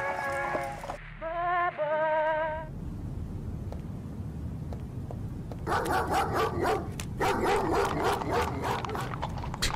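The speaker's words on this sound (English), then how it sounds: "Thought that dog was gonna come right for us." A dog barks in the Victorian-era horror game An English Haunting: a short burst of sharp, harmonic barks opens the scene, then there is a low ambient rumble, and rhythmic clopping like horse hooves on cobblestones comes in later.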